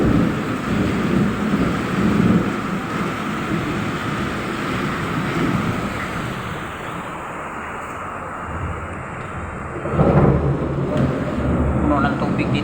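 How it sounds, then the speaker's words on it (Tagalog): Thunder rumbles through a heavy rainstorm with strong wind, the steady roar of rain and gusts filling the scene and a louder crash rolling in near the end, all continuous and close. "Grabe yung kulog at saka kidlat ngayon ah"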